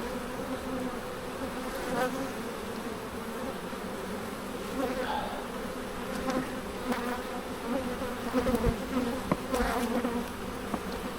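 Dense buzzing of many honeybees swarming close by around an opened hive, a continuous droning hum with individual insects swelling louder as they fly past.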